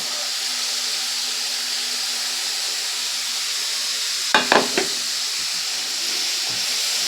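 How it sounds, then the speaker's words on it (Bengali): Vegetables stir-fried in a pan for restaurant-style chicken manchow soup give a steady, even hiss throughout, broken by a few quick clatters of stirring a little past the midpoint. "সব সবজিগুলো কিন্তু এর সঙ্গে আবারও একটু কষিয়ে নেব"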